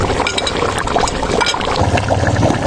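Crushed onion and poppy seed paste tipped into a korma pot, a close, loud wet splattering and sloshing with a few light clinks over a couple of seconds.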